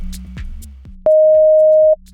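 A pure, steady high-pitched sine tone from Ableton Live, transposed up, holds for about a second, sharp onset and cutoff, over a low background hum and faint clicks.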